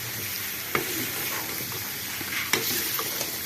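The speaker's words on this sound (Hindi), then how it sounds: "इसमें चम्मच चलाकर पहले इसे अच्छा सा मिक्स करेंगे मसालों के साथ।" A spoon stirs maroo vegetable with spices in a pan for a traditional village-style sabzi, giving a steady sizzling hiss with two sharp scrapes or clinks of the spoon.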